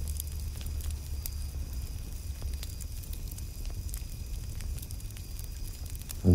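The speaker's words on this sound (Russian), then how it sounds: "На фоне вы слышите звуки костра" A campfire crackles steadily with scattered sharp pops over a low continuous rumble, heard alone at moderate level.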